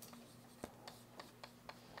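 Lecturer in a Korean real estate licensing class writing a definition on a board, with a series of short, evenly spaced taps and strokes, faint and close, over a low hum.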